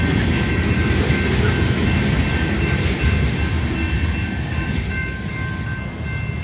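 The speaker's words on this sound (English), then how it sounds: "There's the end of the train right there." Union Pacific freight manifest train rolling past a road crossing, a loud, steady rumble of wheels and cars close by, with a faint warning bell ringing tone above, no talk.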